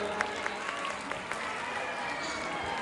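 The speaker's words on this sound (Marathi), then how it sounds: "जोरदार टाळ्या मंडळी." Audience at a Khandeshi cultural festival applauding, a steady dense patter of many hands clapping at moderate distance, continuous and even throughout.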